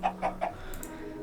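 Three quick chicken clucks from a survival video game's farm, one after another, close and clear, followed by a short faint chirp-like sound with no talking.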